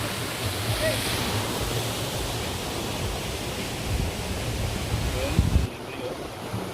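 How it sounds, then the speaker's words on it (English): Aira Force waterfall, heard from the top, gives a steady broadband roar of falling water that stays loud and constant, with faint voices and wind buffeting mixed in. "So we are on top of the waterfalls."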